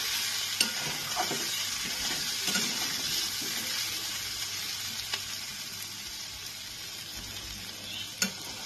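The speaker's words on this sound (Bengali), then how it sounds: "এটাকে এবার আমি একটু ভালো করে ভাজা করে নেব, যতক্ষণ না পর্যন্ত কুমড়োটা সেদ্ধ হয়।" Bitter gourd and pumpkin fry and get stirred in a pan, a steady close sizzle running throughout with a few sharp utensil scrapes and taps.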